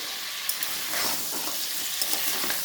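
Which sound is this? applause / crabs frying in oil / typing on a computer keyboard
crabs frying in oil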